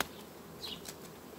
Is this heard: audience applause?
no